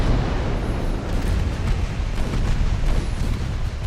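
Naval battle in Ultimate Admiral Dreadnoughts with battleship gunfire and shells exploding: a continuous loud, rumbling wash of booms and blasts, dense and close, with no talking.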